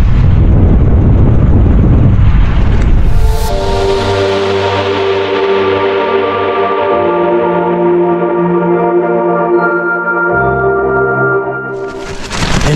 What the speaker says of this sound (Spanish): empezó a soplar un viento hace media hora terrible